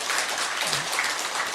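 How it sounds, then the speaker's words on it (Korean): Brief, steady clapping from a church congregation during a Sunday morning service, welcoming new members in a dense patter of hands. "잠깐 자리에서 일어나 주시고 박수로 환영해 주시기 바랍니다"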